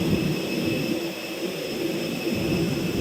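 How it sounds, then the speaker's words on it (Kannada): Strong wind roars steadily beside a propeller aircraft with wings and propellers nearby, a loud, continuous broadband rush with a faint engine whine, no talking. "ಗಾಳಿ ಮಾತ್ರ ತುಂಬ ಹೊಡಿತಿದೆ"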